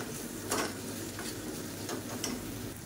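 Cauliflower masala frying in a pan and being stirred, soft scraping strokes over a low, steady sizzle, with a few distinct stirring pulses and no voices.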